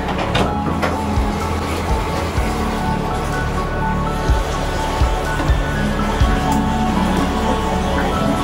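Tap water pours into a home aquarium holding rasbora fry, a loud, continuous rushing and splashing with occasional low thumps, steady throughout and close up, with no talk over it.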